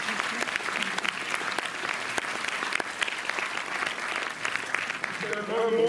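A cinema audience at a film screening and Q&A at the Méliès theatre in Montreuil claps steadily in a sustained round of applause, with voices talking over and through it.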